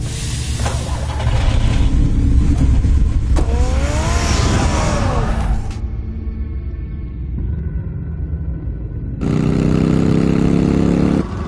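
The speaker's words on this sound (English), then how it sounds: "Get the car ready, Alfred." Batmobile engine in the Batman: The Telltale Series video game revving loudly and steadily, rising in pitch mid-clip, then dropping to a quieter idle before a powerful roar returns near the end.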